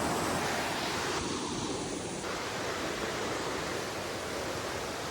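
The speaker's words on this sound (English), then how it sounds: "that water's just crystal clear flowing over those rocks down there" Crystal-clear river water flows over rocks in a canyon of an ancient New Zealand rainforest in winter, a continuous, even rushing hiss that fills the whole stretch without pause or voices.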